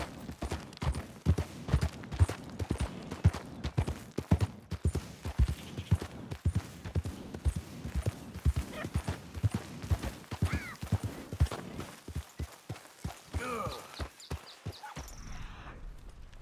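Horse hooves clip-clop steadily in a video game as the ridden horse walks and trots across open ground, a loud, regular hoofbeat rhythm that fades to scattered steps and stillness near the end.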